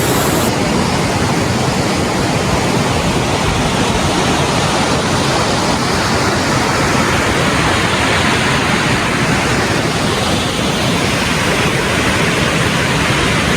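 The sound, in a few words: Pallewela waterfall near Ella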